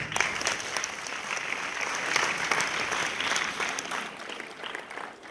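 Applause from an audience at a school girls' final results ceremony, a dense, steady wash of clapping that holds loud and even for several seconds before easing slightly at the end.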